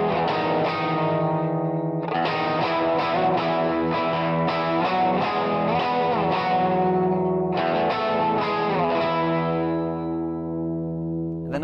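A slow electric guitar phrase from a song, with effects such as chorus, echo and reverb, unfolds as separate sustained notes in two long passages with a brief gap between them.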